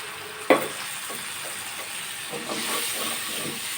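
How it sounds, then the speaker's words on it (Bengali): A sharp clatter opens, then a soft continuous sizzle of onion, ginger and garlic frying in a pan, with light stirring scrapes underneath. "এখন আমি পেঁয়াজ আদা রসুন একসাথে ভালো মতো ভেজে নেব"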